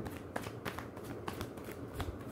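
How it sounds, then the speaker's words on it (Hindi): Tarot cards being shuffled by hand, a soft continuous riffling rustle with small repeated slaps, close and fairly quiet, with no talking. "अभी अभी जब मैं शफल कर रहा हूँ"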